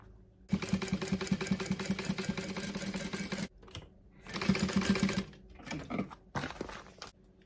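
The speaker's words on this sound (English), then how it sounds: "Now I am going to sew on the line that I drew." A sewing machine stitches along a drawn line on a fabric bag, running in three bursts: a long steady whir, a pause, a second run, then a few short stuttering starts, close and alone with no talk.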